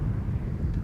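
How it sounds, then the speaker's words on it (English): An Airbus A321neo arriving at Schiphol Airport from Lisbon gives a steady low, rumbling roar with some wind buffeting, heard briefly and without talk. "Okay, so that's the airplane arriving from Lisbon."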